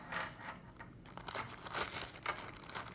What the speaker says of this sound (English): carefully put the minerals back in the plastic bag